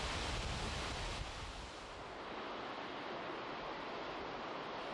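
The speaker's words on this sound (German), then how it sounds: "Seither stürmt das Meer die Steilküste von Los Hervideros" Sea surf pounding the Los Hervideros lava cliffs on Lanzarote, a broad continuous roar of breaking water, loudest at the start then settling into a steady wash, with no voices.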